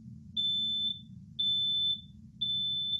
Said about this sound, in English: So for the smoke alarm sound,